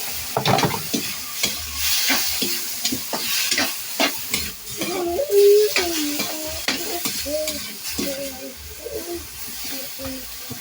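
String beans with pork for adobong sitaw fry and sizzle in a pan with steady stirring and scraping, while a voice talks intermittently over the cooking noise.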